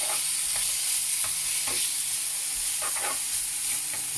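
Food frying in a pan at home, a constant close hiss of sizzling oil with a few soft scrapes and clinks scattered through it.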